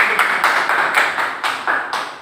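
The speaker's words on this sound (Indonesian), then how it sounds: "tepuk tangan buat yang di depan" A classroom group claps for the students at the front, a short run of brisk, fairly loud hand claps close by.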